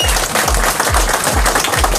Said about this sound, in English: Make some noise for XiJaro and Pitch